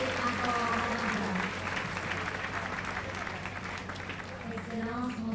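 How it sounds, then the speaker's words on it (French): A congregation applauds at the closing of a church congress, a steady dense wash of clapping from a large crowd in a hall that holds through the whole stretch, with a voice speaking over it. "Applaudissons le Seigneur qui peut nous compter encore."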